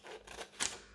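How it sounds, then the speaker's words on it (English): Scissors slice through paper cutting apart a paper helicopter's rotors, with two or three quick close snips, the last one loudest, and no voices. "I'm going to cut down here"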